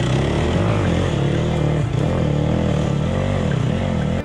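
Enduro motorcycle engine revving hard and continuously while climbing, rear wheel spinning for traction, loud and close with fluctuating pitch throughout.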